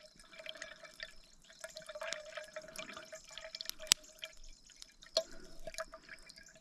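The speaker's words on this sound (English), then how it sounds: "why not fill up the bladder one more time" Water drips and trickles while a hydration bladder is filled at a riverside campsite on a kayak camping trip, a steady close liquid patter with a few sharper drops and clicks, no talk.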